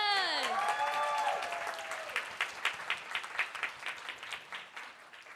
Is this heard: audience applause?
yes